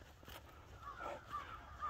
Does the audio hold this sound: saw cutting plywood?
no